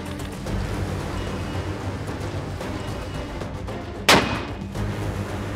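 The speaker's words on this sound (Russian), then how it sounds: "Выстрел." A single sharp gunshot cracks out on a front line amid steady background rumble and noise, one abrupt loud report standing out briefly from the low ambient din.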